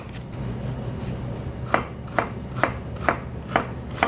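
A knife chopping an onion on a cutting board: quiet at first, then about six evenly spaced, crisp chops close by, with no talking.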